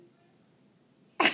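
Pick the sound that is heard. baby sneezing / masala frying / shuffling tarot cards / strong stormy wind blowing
baby sneezing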